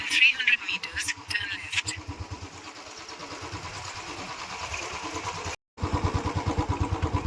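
A motorcycle engine putters and revs in rapid pulses as it rides along, with a brief dropout before the throbbing resumes.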